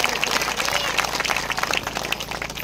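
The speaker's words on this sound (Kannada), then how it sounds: "ಚಪ್ಪಾಳೆ ತಟ್ಟಬೇಕು." Devotees at an ashram gathering for a revered seer clap in a dense, continuous patter of applause, with voices mixed in.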